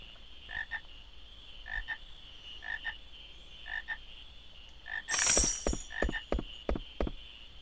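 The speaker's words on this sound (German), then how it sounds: "Und siehe da. Frösche." Frogs in the video game Final Fantasy IX croak in a regular, repeating rhythm, then a burst of sharper, quicker croaks follows, with no talk over them.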